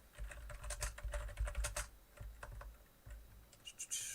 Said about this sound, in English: apologies for the keyboard